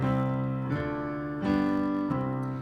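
Three sustained chords, a I-II-V progression in C, played one after another on a keyboard instrument, each ringing for about three-quarters of a second, clear and close.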